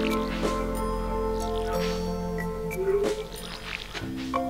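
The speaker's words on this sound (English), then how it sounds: "Oh wait, I still gotta water these." In the farming game Stardew Valley, a watering can sprinkles crops with soft squishy, splashing bursts over looping background music.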